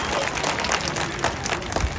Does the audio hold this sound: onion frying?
no